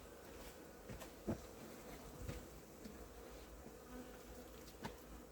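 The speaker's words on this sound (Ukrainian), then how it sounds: "оса лізе. Куди ж ти лізеш, осо?" A wasp crawls over beehive frames during autumn work at an apiary, giving a faint, steady insect buzz with a few soft knocks and taps.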